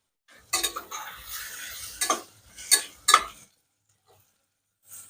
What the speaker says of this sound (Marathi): सर्व परतून घेऊ